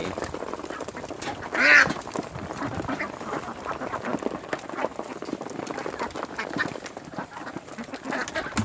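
Laying ducks quack faintly amid a busy backyard outdoor background, with one clearer call early on and scattered softer calls throughout.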